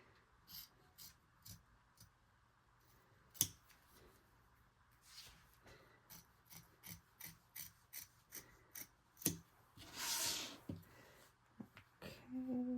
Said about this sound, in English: I'm going to trim around that applique